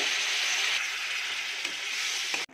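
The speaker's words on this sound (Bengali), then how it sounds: "এতিয়া চব মছলাখিনি দি দিম, অলপ সময় ধুনীয়াকৈ ভাজি ল'ম" Spice masala frying in a pan for mutton kadhai, a loud, dense sizzle close to the mic that runs continuously before cutting off abruptly at the end.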